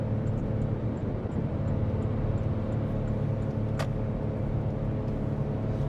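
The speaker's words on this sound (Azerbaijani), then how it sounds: "O Porsche-nin o spesifik səsidir də bu." A Porsche engine running on 92-octane fuel drones steadily while driving, a loud continuous low rumble filling the whole stretch with no pauses, joined by one brief sharp click partway through.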